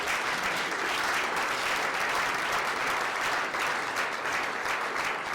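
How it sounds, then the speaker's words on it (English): An audience at a UNESCO Ghana entrepreneurship programme launch gives mentors a long, steady round of applause, a dense wash of clapping that holds at an even level throughout, fairly distant and soft. "join me as we give a huge round of applause to our incredible mentors for Cohort 2"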